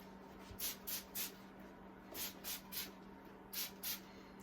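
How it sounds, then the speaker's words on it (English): A hand spray bottle mists water onto hair during a state board haircut, about eight short hissing spritzes in small bursts against a quiet room hum. "So you want to dampen the hair with your spray bottle"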